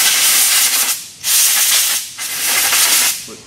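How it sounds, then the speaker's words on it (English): Compressed air blasts metal debris off a transmission magnet from a 2007 Dodge Dakota, in three loud, close hissing bursts separated by brief pauses. "and then I'll blow the rest of the metal off"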